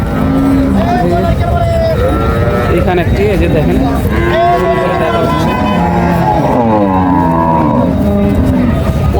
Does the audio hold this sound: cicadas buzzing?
no